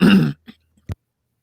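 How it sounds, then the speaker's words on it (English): A single rough throat clearing up close, followed by a couple of small quiet clicks and then silence. "Clear my throat."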